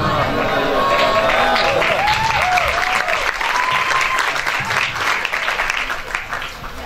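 Applause from a debate audience fills the room, dense steady clapping with scattered voices and shouts mixed in, loud and close, tapering slightly toward the end.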